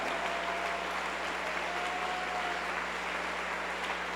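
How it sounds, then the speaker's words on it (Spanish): A church congregation applauds during a Spanish-language Sunday morning service, a steady, even wash of clapping filling the room at moderate distance for about four seconds with no voices over it. "¿Cuánto le damos un mejor aplauso a Él esta mañana?"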